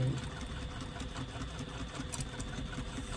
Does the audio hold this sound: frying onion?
no